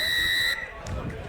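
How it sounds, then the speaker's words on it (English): A referee's whistle at a reserve-grade rugby union match sounds as a loud, steady high-pitched blast for about half a second before cutting off, leaving crowd noise and field chatter behind. "he blows his whistle again"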